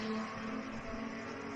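Saloon race cars run down the main straight during a night race, a brief, loud, close engine drone with a sustained tone passing through.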